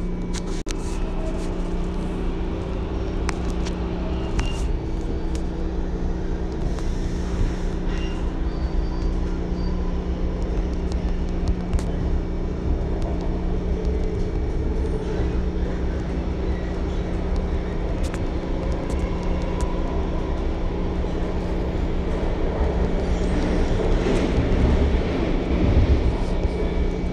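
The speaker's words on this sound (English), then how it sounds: "Train is bound for AT Holmes." A MARTA subway train in Atlanta rumbles along steadily with low mechanical drone and tonal hum, occasional clanks and squeals rising near the end, with no voices heard.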